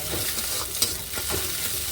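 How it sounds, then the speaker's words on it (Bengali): Egg frying in a pan while being stirred and broken into small scrambled pieces, making a continuous close sizzle with a light scrape of the spatula partway through, no one talking. "আর কুচো কুচোভাবেই ডিমটা ভাজতে হবে।"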